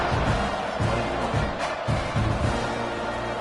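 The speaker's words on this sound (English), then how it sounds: "this crowd is buzzing after that last score" Football stadium crowd at an NCAA game buzzing after a score, a steady broad murmur of many voices with faint cheering beneath the sound.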